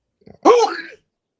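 A single sharp sneeze bursts out after a couple of small preparatory breaths, loud and close, then silence.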